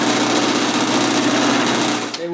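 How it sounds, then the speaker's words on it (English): A power drill bores into plywood with a loud, steady, close whir that tapers off near the end. "And then we can just fold it down and start our drill."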